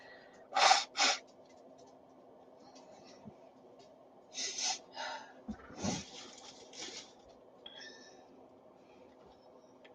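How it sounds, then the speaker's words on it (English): A person's sneeze during a live jewelry sale, heard as two sharp, loud bursts early on followed by softer breathy sniffs and snorts, close to the microphone in a quiet indoor room. "I think I'm going to sneeze now."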